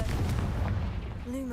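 Confringo blasting spell going off in Hogwarts Legacy, a loud, heavy booming explosion with rumbling low end that fills the moment, and a brief voice near the end.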